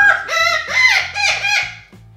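A pet bird gives a loud, close, harmonic call repeated in three or four swelling bursts, strained and crowing-like, with no talk over it.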